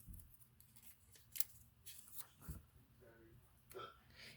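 Scissors snipping paper pieces for ears of a paper craft animal face: a few quiet, close crisp cuts spaced apart, with faint soft sounds between and no clear talking.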